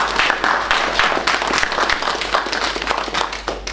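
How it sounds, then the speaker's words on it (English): A seated audience at a panel discussion in Jerusalem's Begin Center applauds the panelists with a close, fairly dense round of clapping that ebbs slightly toward the end. "I want to give a round of applause to our panelists."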